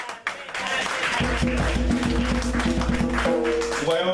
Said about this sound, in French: Acclamez notre Seigneur.